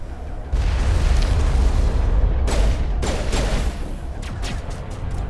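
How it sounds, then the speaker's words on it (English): A grenade goes off in the shooter game Mass Effect, a loud booming blast that rumbles on for several seconds, with sharp crackling bursts and debris pops following near the end. "Let's try and kill this guy with a grenade."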